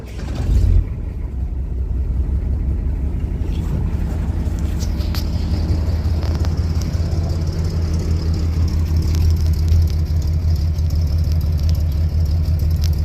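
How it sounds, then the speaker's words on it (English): A 1969 Ford F100 with a 4.9L engine and true dual exhaust idles steadily up close, a deep, even low rumble that holds for the whole stretch after a brief start. "True dual exhaust."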